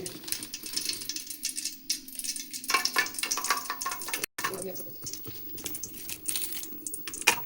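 Raisins and cashews fry in ghee in a home kitchen, with soft sizzling and the scrape and clink of a stirring spoon coming and going beneath people talking.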